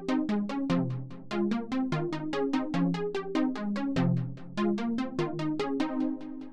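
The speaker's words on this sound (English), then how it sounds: "I've also used this Xenology preset for PW Pluck" A Xenology PW Pluck synth preset plays a quick melody of short, bright plucked notes in a steady rhythm, each note decaying fast, clean and upfront with no voices.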